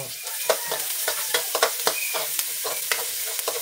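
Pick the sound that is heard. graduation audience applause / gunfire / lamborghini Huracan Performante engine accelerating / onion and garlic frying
onion and garlic frying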